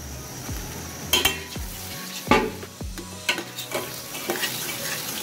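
Yogurt hits a frying masala for brinjal yogurt curry, setting off a steady sizzle broken by several sharp spoon scrapes and stirring knocks against the pan, close and clear with no talk.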